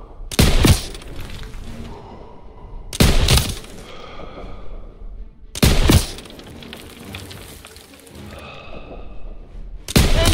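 Loud bursts of gunfire in the World War II video game Call of Duty: WWII, four sharp heavy volleys spaced a few seconds apart, each trailing off into echo and rumble.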